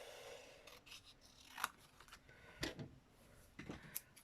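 Scissors snip through paper to trim a pocket for a garden-themed junk journal. Several crisp, close cuts come at uneven intervals over a very quiet background.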